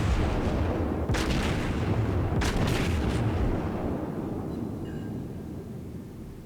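World of Warships naval battle: USS South Carolina's main guns fire high-explosive shells at long range, several heavy booming salvos rolling over continuous ship and sea rumble.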